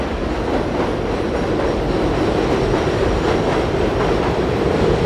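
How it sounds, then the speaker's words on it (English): Subway train at a station in Astoria, Queens, rumbling steadily and loudly throughout with a continuous low roar, faint wheel clatter and no talk. "And here we have the train stop."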